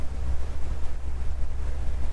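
A Fairline Phantom 65 motor yacht's engines drone low and steady with wind buffeting the microphone, a constant rumble as the vessel accelerates to planing speed over water.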